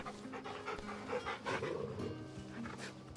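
A dog in the Final Fantasy 16 video game pants in quick, steady breaths, close and fairly soft, with a faint game music bed underneath.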